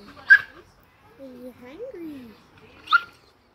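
Dogs whimpering and yipping at close range, a few short whines and faint barks between a person speaking quietly.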